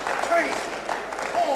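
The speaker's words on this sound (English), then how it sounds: "And there's the applause" Wrestling crowd at ringside applauding in a hall, a modest spread of clapping rising and falling under a commentator's voice.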